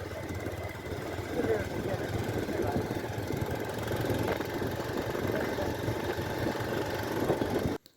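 Motorcycle engine running steadily on a hilly village road, a continuous low rumble with faint knocking throughout, ending abruptly.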